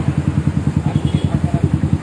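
A Kawasaki W175 motorcycle fitted with a racing exhaust thumps in a fast, steady pulse on a test ride, loud and close, its throaty exhaust beating evenly throughout.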